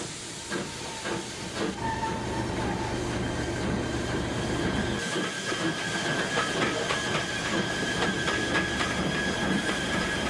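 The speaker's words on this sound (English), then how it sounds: "Slowly but surely the train made its way up what seemed to be the never-ending hill" A steady rumble of a steam train climbing a long hill, with hissing steam and rhythmic clanking throughout, and a faint high squeal along the wheels. No voices.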